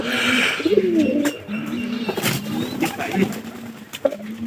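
Pigeons coo repeatedly in low, throaty murmurs close by, overlapping with rustling and fluttering noises in a busy coop.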